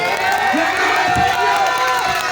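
A dense, loud crowd at a political rally in Delhi cheers and shouts, with raised voices and whoops rising over a constant roar and little distinct clapping.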